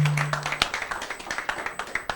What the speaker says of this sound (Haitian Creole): Je vais demander pour nous applaudir plus fort,